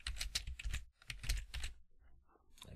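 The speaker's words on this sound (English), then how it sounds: "Type a name for my menu." Fast, close keystrokes on a computer keyboard as a menu name is typed in, coming in quick clattering bursts with a short pause near the end and no talking.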